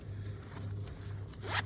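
A zipper on a Maxpedition Versipack Octa fanny pack is drawn open in one quick rasping pull, close and clear, rising to a sharper burst at the end.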